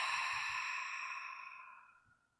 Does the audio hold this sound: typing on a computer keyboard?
no